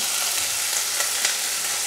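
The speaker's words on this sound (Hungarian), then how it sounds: "dobjuk rá a hagymát. Pár percig ezen a kiolvasztott zsíron pároljuk." Onion sizzles and sautés in rendered sausage and bacon fat for a Hungarian lecsó, a steady close frying hiss with a few small crackling pops.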